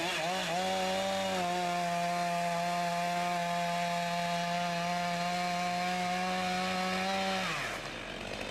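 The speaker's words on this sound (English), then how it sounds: "Not far away, we see the work of ground crews and supplemental chainsaw operators." A chainsaw cuts wood during a logging operation, its steady high whine holding loud and continuous for about seven seconds before winding down, with no talk.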